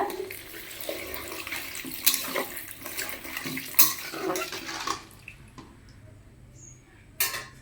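Water splashes and pours into a pan of frying potatoes and tomatoes for a few seconds, then stops, leaving quiet with a couple of small clinks.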